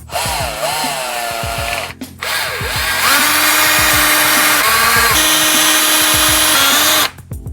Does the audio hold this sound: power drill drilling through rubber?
yes